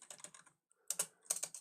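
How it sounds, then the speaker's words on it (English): Typing on a computer keyboard while writing in a word processor, a quick run of close, crisp key clicks, then a pause before two more bursts of taps. "let's just say I'm typing along"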